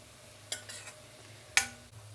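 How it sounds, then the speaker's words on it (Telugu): Garlic cloves fry in hot oil with a soft, steady sizzle. Two sharp metallic clinks of a stirring spoon against the pan stand out close by, and nobody speaks. "ఈ వెల్లుల్లి రెబ్బలు అనేది బాగా వేగాలండి"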